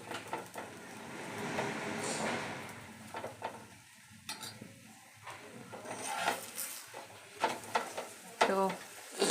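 Aloo paratha fries in a thin film of oil, giving a low, steady sizzle broken by scraping and clinking from a spatula and pan, with a few short bursts of activity near the end.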